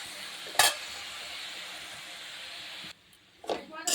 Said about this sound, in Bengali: চলো শাক ভাজাটা গ্যাসে বসিয়ে দিয়েছি।